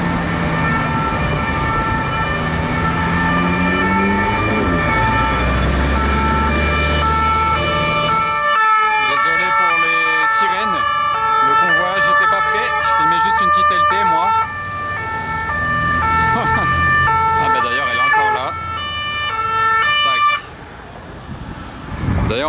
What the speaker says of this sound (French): j'entends d'autres sirènes arriver mais je préfère celle-ci